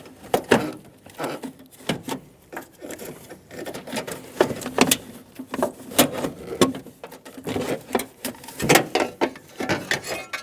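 Socket wrench loosening a bracket bolt under the hood of a 2014-2018 Chevrolet Silverado 1500, a series of close ratcheting clicks and metallic rattles in uneven bursts, with no talk.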